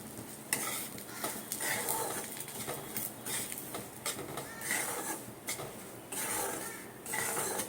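Semolina and potatoes stirred in a pan on the stove, a spoon scraping and clinking against the metal in repeated strokes with a faint sizzle underneath, close and without talk.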